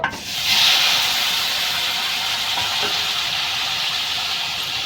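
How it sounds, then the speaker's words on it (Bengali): Eggs sizzle in a frying pan for a home-style egg, potato and pointed gourd dish, a loud, steady hiss that flares near the start and then holds without talk. "ডিমগুলো আমি ভেজে নেব।"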